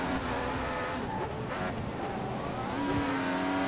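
A Ferrari Formula 1 car engine in the racing game F1 2014 at Abu Dhabi, a loud, steady high-pitched whine held at high revs with shifting tones, close and continuous and with no talk.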